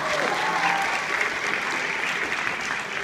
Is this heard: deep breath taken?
no